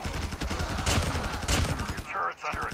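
A turret in Call of Duty Mobile's zombie siege mode fires steady rapid bursts, loud and busy, with a dense rattle of shots that dips briefly near the end.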